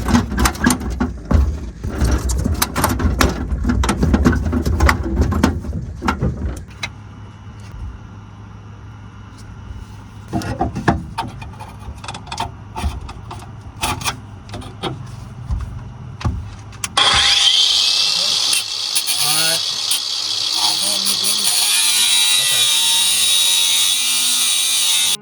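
A part on a blown-up turbocharged GMC Sierra truck being cut through, with loud rasping saw strokes in bursts, quieter pauses, then a steady high-pitched grinding whine near the end, all close up.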